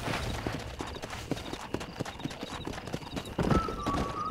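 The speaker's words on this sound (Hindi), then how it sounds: "बाप रे ये बहुत तेज भाग रही थी यार मैं कहना चाहूंगा बहुत ही कमाल का कमाल का घोड़ा है ये" A horse gallops in the Red Dead Redemption video game, its hooves beating a fast, steady clip-clop that stays close and loud throughout, with a brief whinny-like tone near the end.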